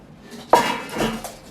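Kitchen pots, drinking glasses, cups, dessert plates and cutlery handled and set down, with a sharp clink of dishes followed by continued clattering and rattling nearby, no talking.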